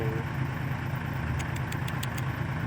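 A dump truck's engine running nearby, a steady loud low rumble throughout with no talk, and a brief series of rhythmic high ticks near the end.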